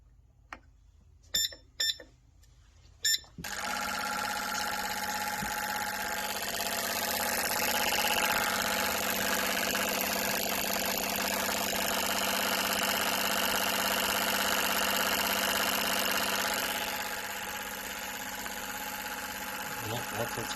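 An engine idles steadily on a fuel injector cleaning rig, a loud continuous mechanical drone starting after a few sharp clicks, holding level and easing slightly near the end, with a voice speaking over it.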